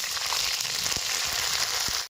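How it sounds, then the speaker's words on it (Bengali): Ginger-chili paste frying in hot oil, a continuous close bright sizzle holding steady throughout with a few soft low knocks underneath and no voices. "হালকা ভেজে নেবো যতক্ষণ না আদা গন্ধ যায়।"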